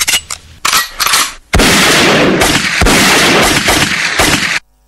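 Loud, close gunfire comes in sharp bursts at first, then gives way to a long sustained roar of rapid shots that cuts off abruptly into silence.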